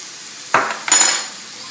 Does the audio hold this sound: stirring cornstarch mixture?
yes